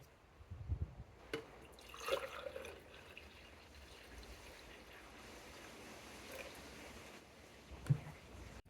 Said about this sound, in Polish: Na początku dodajemy 400 ml ciepłej wody do wysokiego naczynia.